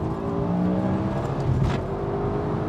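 A BMW E60 M5 on a UK road, its engine droning steadily from inside the cabin, with a brief swell partway through as a gear shift comes through, no talking over it.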